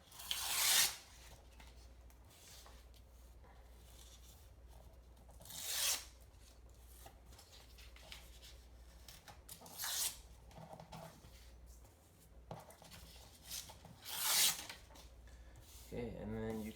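Paper ripped by hand into pieces for a collage, several separate loud tearing bursts spaced a few seconds apart, close to the listener, with quiet gaps between them.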